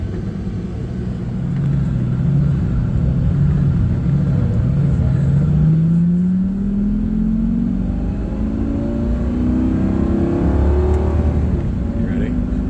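A Lamborghini engine drones steadily from inside the moving car, a continuous low rumble that swells gently as it accelerates, with road noise and no distinct speech.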